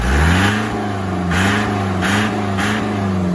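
Jeep engine on a farm field, revved in short repeated surges that rise and settle back, loud and close with no speech.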